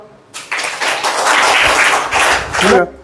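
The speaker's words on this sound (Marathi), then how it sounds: "हिच्यासाठी टाळ्या वाजवा" Applause from a gathered audience at a public event for a girl, a short burst of many hands clapping that swells and holds for a couple of seconds, fairly loud, with a voice briefly audible near the end.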